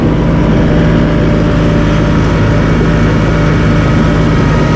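Massey Ferguson 1M.35 or 1M.40 eHydrostat compact tractor engine running steadily and loud, a close continuous low rumble through the whole stretch, with no talk over it.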